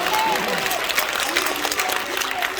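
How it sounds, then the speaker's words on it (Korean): Audience applause at a Korean rally-style gathering, a continuous wash of clapping from a crowd with a few voices calling out over it. "감사의 박수를 보내주시기 바랍니다"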